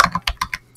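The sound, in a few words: typing on a computer keyboard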